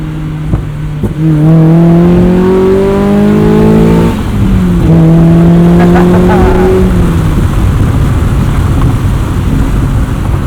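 A modified 2003 Mazda MX-5 Miata's engine revs up twice, rising in pitch, then settles into a steady rumbling roar that continues to the end.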